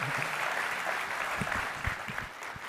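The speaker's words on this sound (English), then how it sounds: "Can we give them a big round of applause for the kicking us off with a great demo?" Audience applause at a Cassandra Summit 2015 keynote after a demo, a dense, sustained wash of many hands clapping with a few sharper claps and low thumps near the end.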